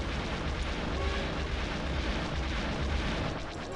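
Continuous roaring blasts and heavy weapons fire in the Star Wars Rogue Squadron 3D video game, a dense, loud, unbroken rumble of explosions with no gaps.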